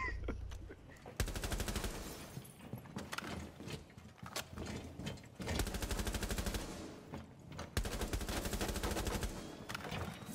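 Bursts of automatic gunfire spray into a room in the video game Rainbow Six Siege. Several dense volleys arrive over ten seconds, separated by short pauses, with faint game ambience in between and no clear talk.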